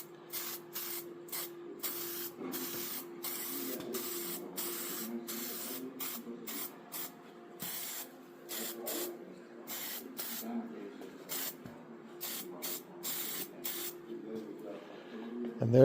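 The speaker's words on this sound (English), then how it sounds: "We're probably going to put 2 or 3 very light dusting coats on." Light dusting coats of industrial tractor paint spray on in repeated short hissing bursts of even rhythm, close and fairly loud, with a low hum running underneath.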